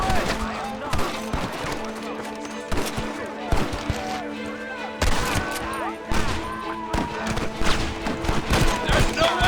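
Heavy gunfire fills a shootout in the video game Red Dead Redemption, with dense overlapping shots, thuds and impacts in a continuous barrage. Shouting voices are mixed in with the shooting.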